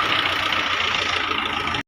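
A tractor engine runs steadily close by, a dense even rumble with a slight knocking pulse, continuous for under two seconds before cutting off abruptly.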